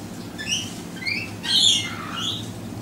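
A young magpie gives a series of short, rough squawks, about four calls spaced apart, close and fairly loud over a low background hum.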